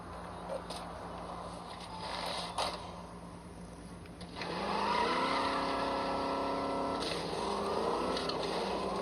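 A called-up vehicle in a Switch 2 video game pulls in with a rising, steady engine whine that swells midway and holds, over a constant low background hum.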